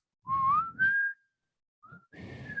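A voice imitates Proto Man's signature whistle from the Mega Man video game. It comes as a rising whistled melody in two phrases, then a short pause and a final sustained note, close and clear with no other sounds.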